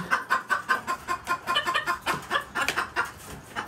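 A hen clucking close by in a farmyard, a quick run of rhythmic, bubbly clucks that repeat steadily for several seconds with no voices over them.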